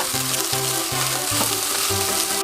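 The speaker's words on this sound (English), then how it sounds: "I'm going to put the rest of my carrot and my peas in here. Just mix everything well together first." Carrots and peas are stir-fried into Vietnamese fried rice in a hot pan, a loud continuous sizzle broken by regular scraping strokes of a spatula, with no voices.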